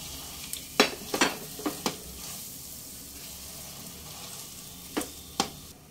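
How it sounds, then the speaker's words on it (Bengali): Potatoes, green peas and ground spices sizzle in a kadai over a medium flame, with a steady soft frying hiss broken by several sharp clicks and scrapes of a spatula stirring. "মিডিয়াম ফ্লেমে 2 মিনিট খুব ভালোভাবে আলু আর মশলা একটু নেড়ে নেব"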